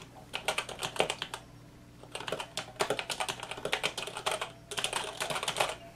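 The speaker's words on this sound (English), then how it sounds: "This one is a mechanical keyboard, non-clicky keys, and that just fits on here." Typing on a mechanical keyboard with non-clicky keys, heard up close as rapid bursts of soft keystrokes separated by short pauses, with no one speaking.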